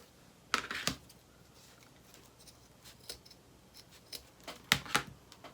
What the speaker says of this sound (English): Cut the excess off and then glue it.